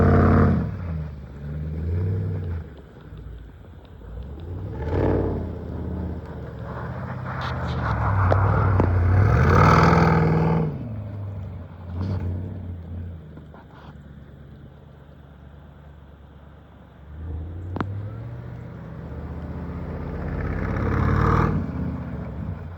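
A Jaguar F-Pace SVR drives and slides through snow, its engine swelling and revving in surges with wind rumble and tyre noise, loudest around the middle, with occasional faint talk.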